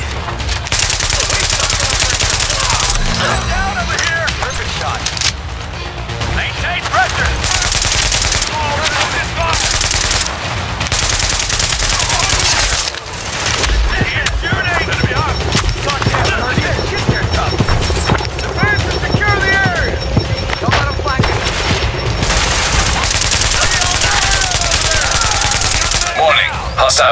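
Rapid automatic gunfire and scattered shots from Tom Clancy's The Division, bursting repeatedly and loudly through a busy firefight, with a voice heard among the shooting.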